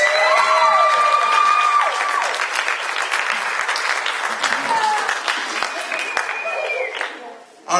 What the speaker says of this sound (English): round of applause for our first 5 poets.